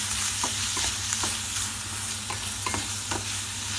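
Chicken stirred and fried in a pan for sambal goreng, a constant bright sizzle broken by repeated scraping strokes of the spoon, close and with no speech.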